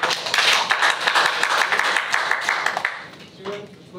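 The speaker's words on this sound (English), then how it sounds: "let's give her a warm round of applause so she can come up" Warm applause from a seminar audience welcoming a presenter: dense, steady clapping that fills the room for about three seconds, then thins and fades out.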